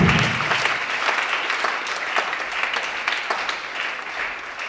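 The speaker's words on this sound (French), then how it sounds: "Acclamons pour Jésus." A church congregation applauding together, steady dense clapping filling the whole stretch, loud and close, with faint voices mixed in.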